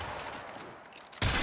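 A Tigris Prime shotgun fires in Warframe: a sudden loud blast cuts in near the end after a short stretch of softer in-game ambience and distant rattling.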